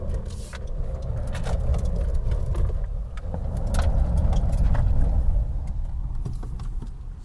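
Honda CR-V with two-wheel drive rolling over sand, giving a steady low rumble with a swell of engine and tire noise midway, with scattered light clicks and rattles.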